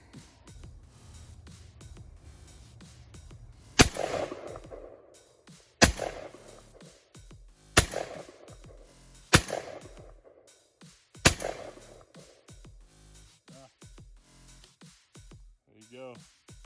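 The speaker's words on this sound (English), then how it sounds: "I've shot 12 gauges before, and I think these are light target loads" An ATI Bulldog 12 gauge semi-auto bullpup shotgun fires light target loads: five loud, sharp blasts spaced about two seconds apart, each with a short echoing tail, over quiet background murmur.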